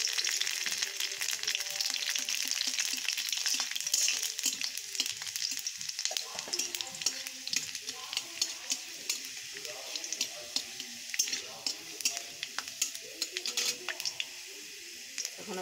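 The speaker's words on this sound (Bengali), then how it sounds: "এখন আমি রসুনগুলো হালকা লাল করে ভেজে নেব।" Garlic frying in oil while being stirred in a pan for a lentil fritter curry, a steady sizzle with crackling pops and intermittent scraping strokes, close up, with a quiet voice now and then.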